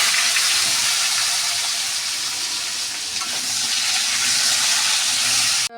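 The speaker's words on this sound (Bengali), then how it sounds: "আমি একটু আলুটাকে ভেজে নেব।" Potatoes frying in hot oil in a Bengali home kitchen, a steady loud sizzle with a bright hiss that holds evenly throughout, with no talking.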